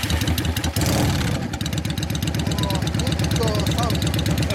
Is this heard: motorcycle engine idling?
yes